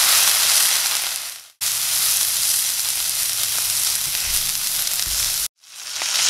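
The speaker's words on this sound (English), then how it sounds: "We're going to go ahead and take our strip steak and put it in." Strip steak sears in a hot pan on a Gas One portable gas stove, giving a loud, steady broadband sizzle that cuts out briefly twice before resuming.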